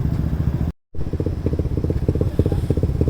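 A Raider motorcycle being tuned, its engine revving hard in loud, close, choppy bursts with a brief silent gap near the start.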